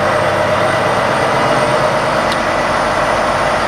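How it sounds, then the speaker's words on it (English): 2022 Volvo VNR truck with a D13 engine starting a forced DPF regeneration, a loud, steady diesel rumble with raised revs and no pauses. "what you'll hear behind me is the truck starting to ramp up the RPM."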